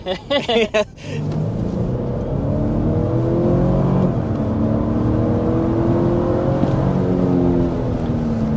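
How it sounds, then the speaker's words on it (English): A large 2025 Toyota Sequoia Capstone or Lexus LX 700h hybrid SUV accelerates at full throttle. A short voice opens before the engine surges into a sustained, rising drone heard from inside the cabin, climbing steadily through the clip. "Just like that, this big old SUV is past 60 miles an hour."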